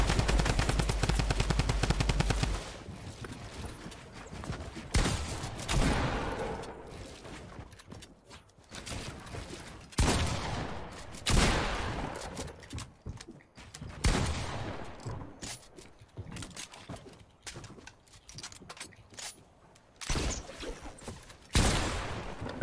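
M60 machine gun fire in a video game, heard as loud, close bursts of rapid shots separated by short pauses, with several distinct volleys across the stretch and no talk.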